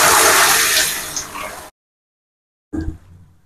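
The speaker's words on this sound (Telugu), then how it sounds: "ఈ ఉడికించుకున్న పప్పుని ఈ గుమ్మడికాయ పోసులో వేసేసుకోవాలి" Boiled lentils are poured into a pot of tempered pumpkin in a loud, thick rushing gush that fades over about a second and a half, then cuts to silence before a short wet splash and stir.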